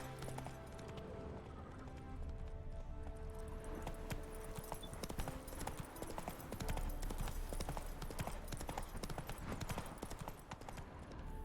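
Roach the horse trots along a path in The Witcher 3, hooves clip-clopping in a steady rhythm beneath game music and ambience, while a voice talks over the steps.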